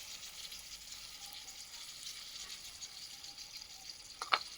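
Small luchi deep-frying in a little oil give off a faint, even sizzling hiss, broken near the end by a single sharp clink.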